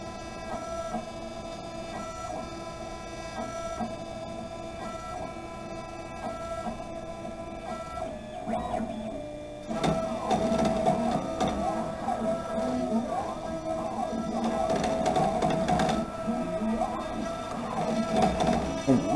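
A CNC router cuts into a vinyl record, a steady whining machine drone with tonal hum that grows louder and harsher midway as the cutter bites, continuing unbroken throughout.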